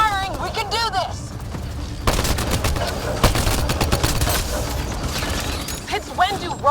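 Rapid gunfire bursts in the sci-fi video game Mass Effect Andromeda, loud and dense with sharp cracks and impacts, alongside shouted voices and an electronic warble at the start and end.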